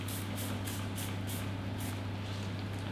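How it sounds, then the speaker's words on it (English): A hand spray bottle mists soda crystal solution onto a screen printing registration sheet, giving a rapid series of short hissing squirts over a steady low mechanical hum. "I'm just going to spray"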